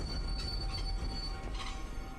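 A train in the video game Chernobylite rumbles along with deep low roar and high metallic wheel squeal, a continuous loud rolling rush with a sustained whine above it.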